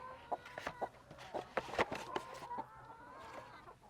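Farm chickens cluck and squawk in short overlapping bursts, several birds close by and fairly loud, with irregular calls scattered throughout and no talking.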